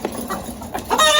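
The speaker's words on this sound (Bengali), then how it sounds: "এই মোরগগুলো দেখেন কেমন করছে।" Fayoumi and desi roosters on a small poultry farm give short, close clucks and rough calls in irregular bursts, with the flock louder toward the end.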